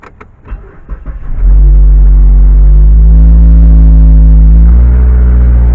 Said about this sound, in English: It's like some type of rattling.